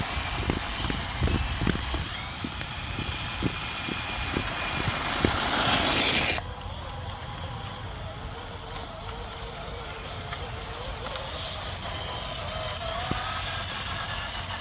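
A 1/6 scale ROCHobby 1941 Willys Jeep MB RC scaler crawls along a trail with a close, whining electric motor and ticking, ratcheting drivetrain clicks, then a brief rushing burst before the sound settles to a lower, steady hum.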